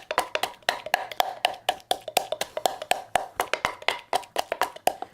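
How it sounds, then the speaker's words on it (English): Garlic is pounded and crushed in quick, evenly spaced strikes, about five per second, each a sharp, fairly quiet thud in an otherwise silent room. "you want it crushed up enough that there aren't any big chunks of garlic"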